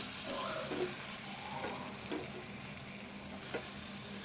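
A ridge gourd and soya chunk curry simmers in a pan, giving a soft, steady bubbling sizzle with a few light stirring scrapes, and there is no speech.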